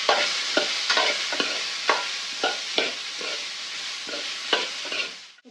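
Mango curry being stirred in a hot frying pan with pepper and curry leaves, the oil sizzling steadily while a spoon scrapes the pan in repeated, fairly regular strokes close by, no voices.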